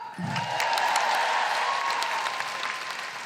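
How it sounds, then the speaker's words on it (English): Loud, steady applause from a live podcast audience recorded in Wellington swells in after a brief moment and holds as a full, even roar of clapping for about three seconds. "Big round of applause for Sarah."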